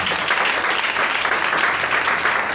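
Congregation at a church service applauding, a dense, steady wash of clapping from many hands that fills the whole stretch at full loudness, with no break or talk.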